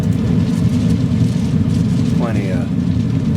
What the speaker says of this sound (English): Feel nice blower motor pressure, no issues there.